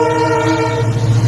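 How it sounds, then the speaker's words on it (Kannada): A train horn blaring loud and close in a sustained tonal blast over rumbling rail noise, near the Dudhsagar area. "ಟ್ರೈನ್ ಹೆವಿ ಸ್ಪೀಡಲ್ಲಿ ಬರ್ತಾ ಇದೆ."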